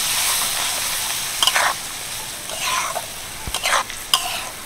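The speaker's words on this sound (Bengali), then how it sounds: "হালকা করে নাড়িয়ে দিই।" Green chillies kept in salt and lemon are stirred in a pan with a little turmeric, giving a low steady background hiss broken by a few short scraping strokes of the spoon and a sharp clink.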